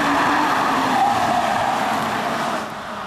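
Engine of a Porsche Boxster S 986 drives hard through a bend, a loud, continuous sustained roar with a steady pitch that eases slightly toward the end.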